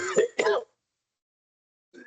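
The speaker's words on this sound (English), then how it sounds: "somebody has a bad cough" Two quick throaty coughs close together, fairly near, followed by silence and a brief murmur at the end.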